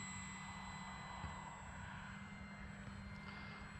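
An FMS Ranger 1800mm electric RC model airplane approaches to land too fast, a steady motor drone with propeller buzz at moderate distance, heard alone without speech.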